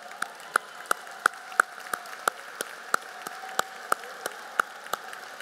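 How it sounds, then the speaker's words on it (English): Sparse, evenly spaced claps ring out at a Hall of Fame gala for the sponsors, roughly fifteen sharp, distinct hand strikes over several seconds, as if only a few people in the room are clapping steadily. "A round of applause for our sponsors."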